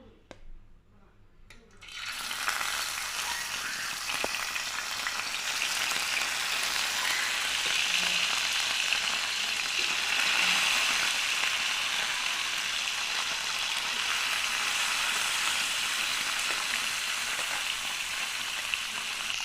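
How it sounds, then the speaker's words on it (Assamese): Kawai (climbing perch) fish rubbed with salt and turmeric frying in hot oil: after a quiet moment, a loud, steady hissing sizzle starts and continues unbroken, with a few faint clinks. "তেলখিনি গৰম হোৱাত এতিয়া আমি মাছখিনি ধুনীয়াকৈ ভাজি ল'ম"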